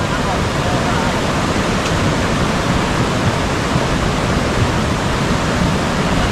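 Floodwater after heavy rain rushes in a loud, dense, unbroken roar, close and steady for the whole stretch with no pauses.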